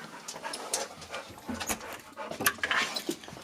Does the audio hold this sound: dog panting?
yes